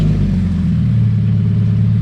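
A car engine idling in neutral with a steady low rumble and a slight rise in revs, close and loud, with no talk.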